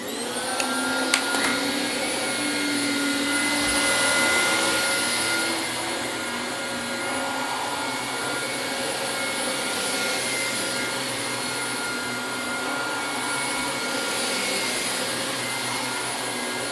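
A Dyson DC25 upright vacuum cleaner runs steadily on carpet treated with carpet powder, a loud, close, continuous motor whine with a slight swell as it moves, and no talking.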